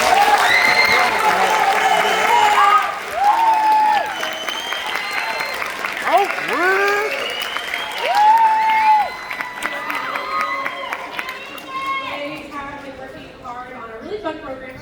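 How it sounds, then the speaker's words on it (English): An audience at a high school winter band concert applauds the symphonic band with steady clapping, scattered whoops and cheers, all fading out toward the end. "Go ahead and give them a round of applause."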